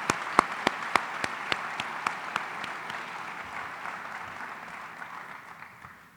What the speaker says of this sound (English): let's give a round of applause for all of those leaders who make this possible